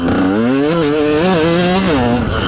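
KTM 125 EXC two-stroke dirt bike engine revving loudly and close, its pitch rising and falling across several throttle blips with a buzzing rasp, with no talking.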